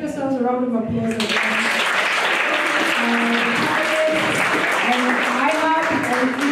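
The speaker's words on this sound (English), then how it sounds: "give yourselves a round of applause." Audience members at a women-in-entrepreneurship panel session at iHub applaud steadily for several seconds, a dense, even clapping close by, while a voice talks over it at the start and throughout.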